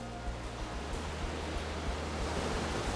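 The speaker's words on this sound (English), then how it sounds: "This is Poolanas Waterfall." Poolanas Waterfall in Ireland rushes in a steady, broadband roar of falling water, constant and fairly soft, with no voices.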